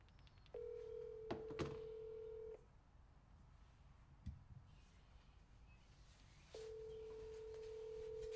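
A phone call rings out through the handset as an outgoing ringback tone, two long steady tones separated by a pause, faint, with a couple of light clicks between them.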